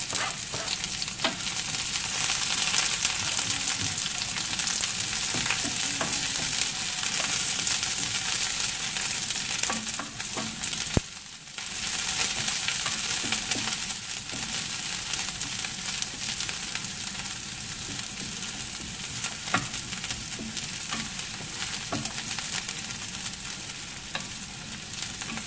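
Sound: onion frying and sizzling in a pan for shrimp curry

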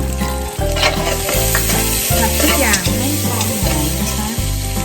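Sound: stir-frying fish with curry paste in a pan

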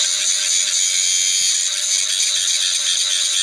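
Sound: cut-off disc feathering weld tacks on steel pipe

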